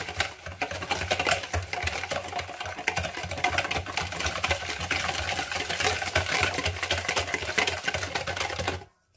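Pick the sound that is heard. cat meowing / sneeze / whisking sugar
whisking sugar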